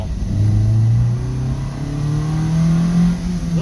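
A Lancia Fulvia engine revs up loudly and close, its pitch climbing steadily through the gear as the sporty car accelerates, with no talk over it.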